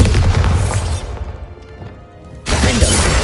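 In a wizarding spell-combat video game, a Bombarda spell lands as a loud crashing explosion with debris-like crackle that dies down briefly before a second heavy blast erupts.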